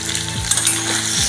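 Small pieces of chopped tomato dropped into a hot pan of oil, a short burst of frying hiss with a couple of faint metallic clicks.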